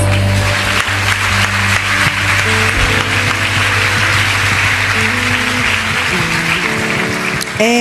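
Church congregation applauding together, loud sustained clapping mixed with music and organ tones.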